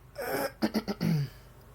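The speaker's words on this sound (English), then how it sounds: "Yep, clear your throat." Someone clears their throat close by: a rough rasp, three short guttural pulses, then a longer gravelly clear, with no words.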